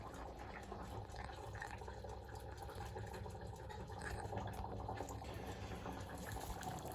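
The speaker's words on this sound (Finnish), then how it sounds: "Tästä vettä kokonaan pois." Water drains off a pan of cooked food into a sink, a steady running splash with drips, heard close over faint kitchen background.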